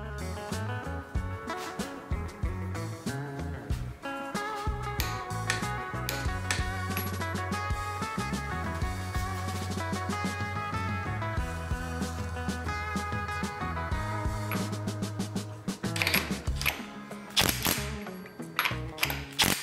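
A ratchet wrench torquing the crankshaft bolt on a Volvo B230 16-valve turbo engine build, with rapid repeated ratcheting clicks, close and steady, under a music track.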